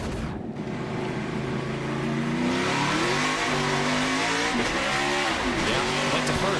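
A race car engine roars loudly, its pitch swooping down and climbing again as it revs through gear changes on a downshift, heard close from on board during the 2023 Bush's Beans 200.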